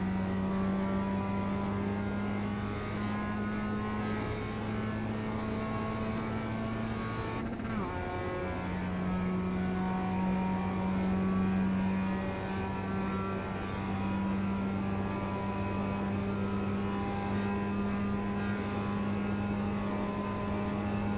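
A Mazda Cup race car in iRacing at Charlotte Speedway roars at high speed, a continuous loud engine drone with a brief dip in pitch around a gear change before it resumes steadily.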